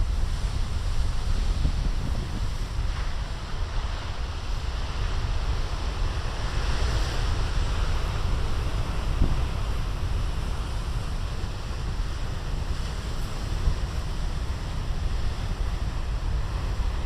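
Big ocean waves break and roll continuously, a loud, churning surf roar with gusts of wind buffeting the microphone throughout and no voices.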